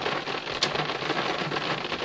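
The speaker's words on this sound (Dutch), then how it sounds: "Nee, geen hagel, regen. Maar warme regen, flinke druppels, dikke druppels." Heavy warm rain with big drops falls during a thunderstorm chase in Brabant, a dense, continuous, loud hiss of splashing drops with one sharper crack partway through and no voices.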